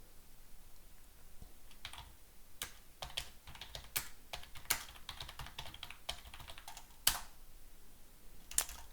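Keystrokes on a computer keyboard entering terminal commands, a quiet, irregular run of light clicks with short bursts and pauses, a few sharper key strikes, no talking.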